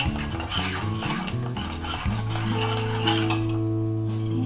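Peanuts and cardamom powder are stirred into a sweet mixture in a pan, with continuous scraping and stirring under steady background music.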